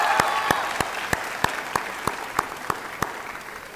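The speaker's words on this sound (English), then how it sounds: "so let's give them another round of applause." Applause from a graduation audience at Ubah Medical Academy in 2018, with evenly spaced sharp claps standing out over a steady bed of crowd clapping, moderately loud and continuous throughout.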